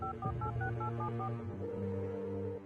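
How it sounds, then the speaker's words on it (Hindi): Telephone keypad tones in an audio drama, a quick run of about eight short beeps as a number is dialed over a low music bed, with no one talking. "उसने जल्दी से फोन उठाया और राघव को कॉल लगाया।"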